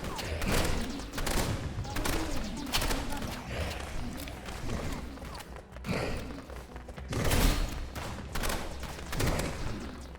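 Rapid gunfire bursts from a zombie-fighting video game, dense and loud with repeated thuds and volleys throughout, mixed with players talking over the action.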